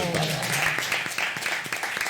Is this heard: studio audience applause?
yes